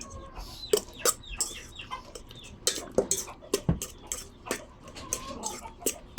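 Backyard pet chickens cluck and squawk in short, irregular calls close by, fairly faint, with no talking over them.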